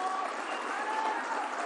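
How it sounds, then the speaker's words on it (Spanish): Steady applause fills the hall at the first national assembly of the Afro-Bolivian people, a dense, even clapping from a large audience with faint voices mixed in throughout. "Quiero que se aplaudan ustedes por haber llegado."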